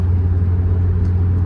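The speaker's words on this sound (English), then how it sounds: "I also do like the sound of the 5-cylinder. It sounds like a diesel truck or a van." A 2008 Hummer H3 five-cylinder engine running while off-roading, a loud, steady, low droning rumble heard from inside the vehicle, with no talking.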